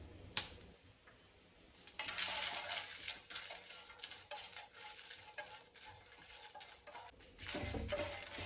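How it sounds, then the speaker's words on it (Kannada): Garlic and green chillies frying in a pan, with a soft hiss of sizzling punctuated by sharp scrapes and clinks of stirring against the pan, rising and falling in bursts. "ಮೆಣಸಿನ್ಕಾಯಿನೂ ಬೆಳ್ಳುಳ್ಳಿನೂ ಫ್ರೈ ಮಾಡ್ಕೊಂಡಿದ್ದಾಯ್ತಲ್ಲ"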